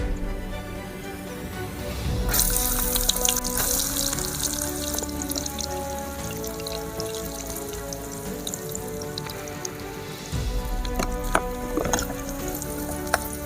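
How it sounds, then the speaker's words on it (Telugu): Onions and green chillies are tipped into hot oil for a village-style mushroom dish, and a bright sizzle flares up and holds steady with occasional crackles and spatters, without speech. "నూనె అయితే మరిగింది ఇప్పుడు ఉల్లిపాయలు పచ్చిమిరపకాయలు అయితే వేసుకుందాం"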